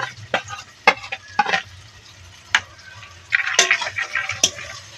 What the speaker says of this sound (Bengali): তারপরে দিয়ে দেব সোয়াবিন কুচি যেটা আগে থেকে ভেজে নিয়েছি সেটা দিয়ে দিচ্ছি